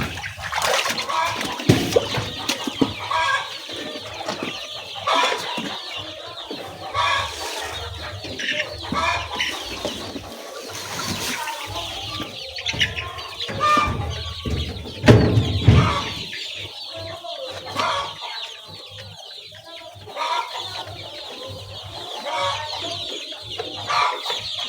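Layer chickens at feeding time cluck and squawk continuously, a busy flock close by with overlapping calls and occasional louder bursts, plus faint rustling and clatter.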